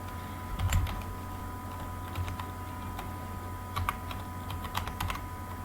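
Typing on a computer keyboard, with soft, irregular clusters of close key clicks and a few louder taps, like the Enter key, over a quiet background hum.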